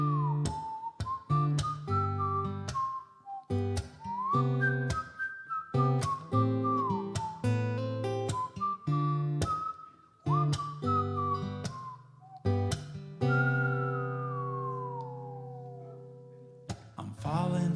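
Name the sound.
person whistling a song intro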